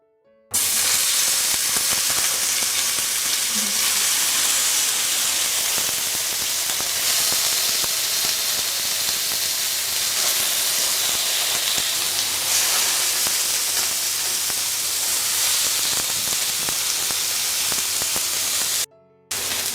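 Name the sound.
chicken seekh tikka sizzling on an electric grill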